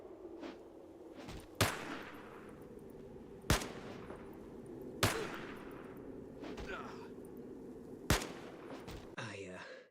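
Gunfire in the tactical game Fallout Tactics: about five sharp, separate shots ring out a second or two apart over a steady low rumble of battle ambience.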